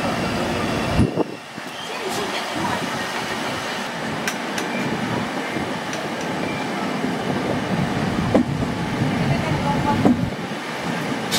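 Moving passenger train on the Visakhapatnam to Jagdalpur line, a steady rumble of wheels and carriage noise throughout, with a few sharper rattles and knocks standing out near the end.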